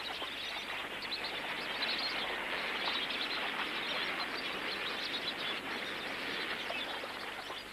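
A large flock of flamingos packed along the shore of a soda lake keeps up a dense, continuous honking chatter, steady and moderately loud with no pauses.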